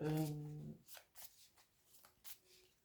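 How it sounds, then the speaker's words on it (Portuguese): Tarot cards are shuffled by hand during a live reading, a series of short papery riffles and taps heard close up after a voice trails off. "Eu gosto de baralhar ao vivo para poderem ver todo o processo aleatório de tiragem das cartas"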